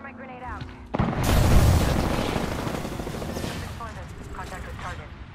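Gunshots fired at the player in Apex Legends, a sudden loud boom followed by a dense rumbling burst of gunfire that slowly fades, with a character voice talking before and after.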